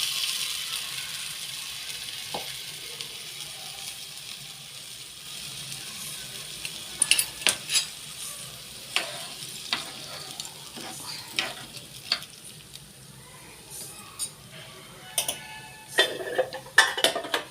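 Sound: tamarind water boiling in a pot

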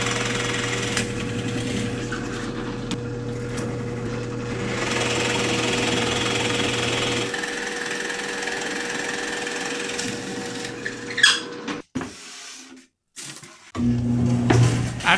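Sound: drilling holes in saw handle blank

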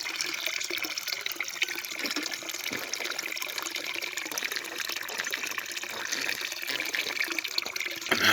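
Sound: water from a tap filling a container

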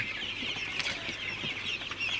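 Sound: Sonali super hybrid chickens clucking on farm

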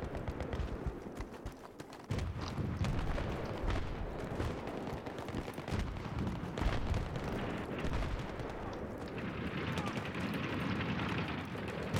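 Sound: gunfire in a Battlefield video game

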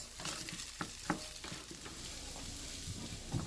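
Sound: onions added to sizzling meat in a pan

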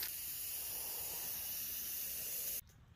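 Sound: spray paint hissing onto a table, black coat

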